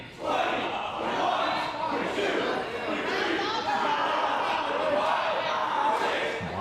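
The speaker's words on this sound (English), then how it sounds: "All the blood rushing into the head of Rudy Lockhart as the crowd counts along." A wrestling event crowd chants and counts along in unison during a long delayed vertical suplex, a loud, sustained roar of many voices with rhythmic swells, heard close and dense throughout.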